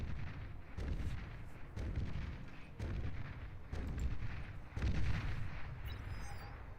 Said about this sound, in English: This bull is shooting itself to death.